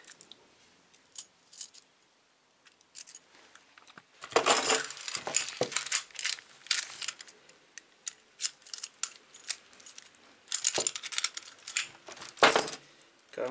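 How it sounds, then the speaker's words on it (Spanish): Set of five metal keys for an OnGuard Mastiff 8022D hardened-steel padlock jangling and clinking, close and fairly quiet, in scattered bursts with short pauses between. "Trae 5 llaves."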